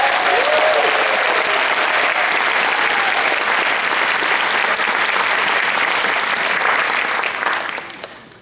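A large audience applauds the creatives at a film and arts festival opening night, with dense, sustained clapping that stays loud for about seven seconds before tapering off at the end.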